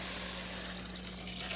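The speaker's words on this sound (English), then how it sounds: "I'm gonna add 2 cups of water to this" Two cups of water pour steadily into a soup pot on the stove, a continuous close splashing rush with a faint sizzle, no talking.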